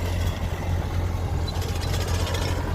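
A Sonalika 750 tractor pulls a tiller through a field, its engine producing a loud, continuous low drone that stays steady throughout, with no speech.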